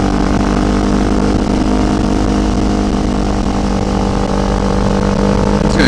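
Motorcycle engine held in second gear while climbing a mountain road, a loud, steady, close droning roar with constant harmonic tone and no pauses throughout.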